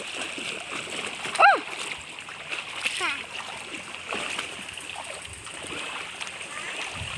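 Splashing and sloshing as someone wades through nearly waist-deep floodwater, with one sharper splash early and softer water movement continuing beneath a voice speaking throughout.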